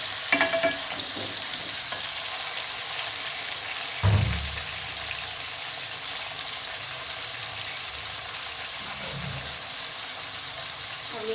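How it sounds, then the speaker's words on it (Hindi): A spoon stirs potatoes and eggplant for aloo baingan as they fry in oil in a pan, with a soft steady sizzle and a few clattering scrapes, including one sharp knock near the start and another partway through. "मैं इसको मिक्स करूँगी ऊपर नीचे।"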